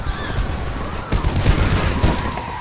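Bursts of gunfire in the video game Homefront, a rapid cluster of booming shots over rumbling battle noise, with a second volley around the middle of the clip.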